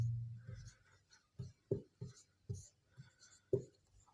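Marker or chalk strokes on a board during a Class 10 chemistry lesson: short, dry scratches and taps come in separate bursts with quiet gaps between them.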